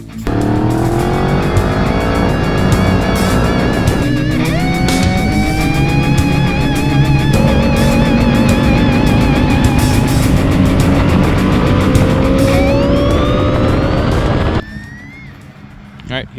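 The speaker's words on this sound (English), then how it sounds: "Let's get an exhaust sound, and we'll go out on the road." A 2015 KTM 1290 Super Duke motorcycle accelerates hard through rising gear pulls, its exhaust roaring loud and close before cutting off sharply near the end.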